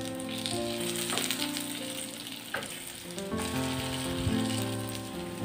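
Steady, dense sizzling of zucchini slices frying in a pan, loud and close, with a few soft clinks and shifts as pieces are moved.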